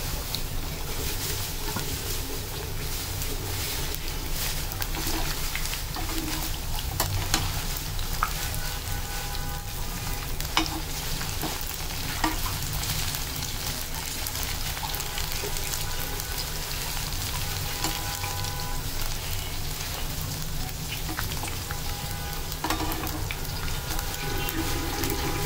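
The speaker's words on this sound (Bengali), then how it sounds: "ফুলকপিটা এই যে এরকম ব্রাউন করে ভাজতে হবে" Cauliflower pakora pieces frying in hot oil until brown, giving a steady, dense sizzle and crackle throughout with faint clinks, close and continuous.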